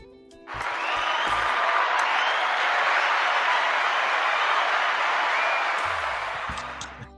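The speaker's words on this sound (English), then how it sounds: "You got a clap button over for this." Synthetic applause effect triggered by a clap button, a dense burst of clapping and light cheering that swells quickly, holds steady for several seconds, then fades, with brief low room noise at either end.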